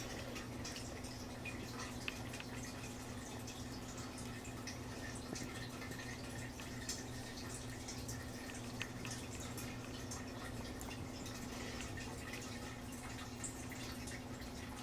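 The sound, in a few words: water dripping in a fish tank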